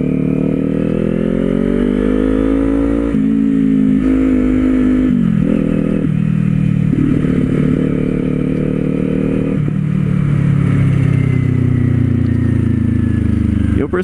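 Kawasaki Z400 motorcycle fitted with an aftermarket exhaust, ridden on a highway: a loud, steady engine drone close by, rising and falling with shifts and throttle changes, with wind rush throughout and no talk.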